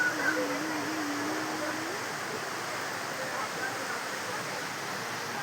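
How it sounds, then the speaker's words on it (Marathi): Kapildhara waterfall pouring down, a steady broadband rush of falling water heard from nearby, with a brief tonal whistle early on and a voice talking faintly over the constant roar. "बघा आता पाणी पडते वर."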